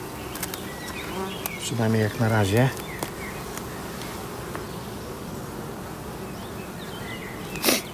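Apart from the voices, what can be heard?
honeybees buzzing at an open hive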